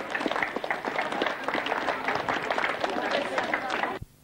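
An outdoor crowd claps at the Nos Galan road race event in Mountain Ash, a busy sustained round of applause with voices mixed in, ending abruptly.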